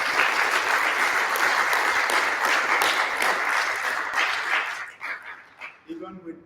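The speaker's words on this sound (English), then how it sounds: "Let's give him a round of applause." An audience applauds a musician with loud, dense clapping that holds steady for several seconds, then thins out and fades as a few voices come through.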